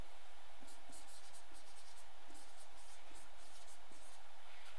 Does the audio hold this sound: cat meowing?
no